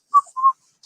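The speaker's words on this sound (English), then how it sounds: "See the guy whistling?" A person whistles two short clear notes in quick succession, the second slightly longer, close and alone against silence.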